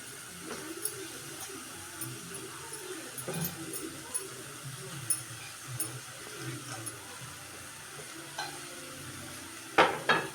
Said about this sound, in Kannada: ನಾನು ಬೆಂಡೆಕಾಯಿ ಹುರ್ಕೊಂಡಿದ್ನಲ್ಲ ಬೆಂಡೆಕಾಯಿ ಹಾಕ್ತಾಯಿದ್ದೀನಿ